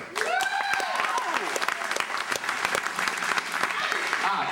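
Steady applause from a spring show audience fills the whole clip, with bright whoops and whistles rising over the clapping early on.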